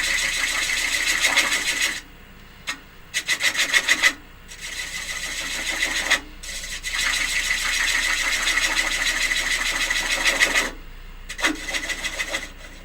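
Small cherry bowl on a wood lathe turning slowly at a few hundred rpm while a gouge takes light cuts, a close hissing, rasping shave that starts and stops in bursts over a low motor hum.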